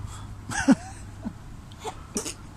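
A single abrupt sneeze-like burst rings out over a quiet room hum, followed by a few faint, brief breathy sounds.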